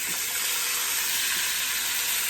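Fatty oxtails browning in a little oil in a pan make a steady, loud, close sizzle and hiss that continues without a break, with no talking.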